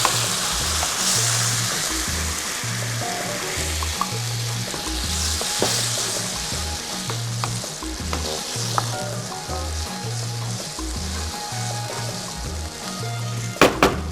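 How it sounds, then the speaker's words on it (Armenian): Cream poured into a sauce in a hot pan sets off steady frying and sizzling that runs through the whole stretch, with light stirring and occasional clinks, loud and close. "Եվ որպեսզի սոուսին նրբություն հաղորդենք, լցնում ենք կաթի սեր։"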